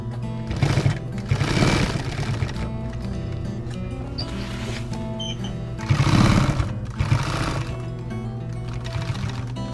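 Sewing machine stitching a patch onto leather, its motor whirring and needle thumping in steady bursts that swell louder around the start and again near the middle, heard alone without talk.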